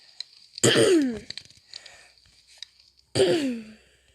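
A person voices a cough-like throat clearing as a nervous tic during a Minecraft session, two close, loud, harsh rasping bursts a few seconds apart with quiet clicks between.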